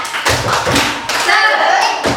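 Preschool children clap in a quick rhythmic pattern while chanting together in a classroom, sharp hand claps falling in short bursts between their loud, close voices.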